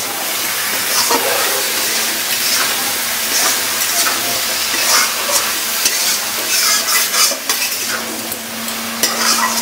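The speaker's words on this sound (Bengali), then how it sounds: "এবার সবজিগুলো দিয়ে দিচ্ছি" Chopped eggplant and carrot fry in a spice paste with turmeric and salt, sizzling loudly and close while a utensil repeatedly scrapes and stirs the pan in an uneven rhythm.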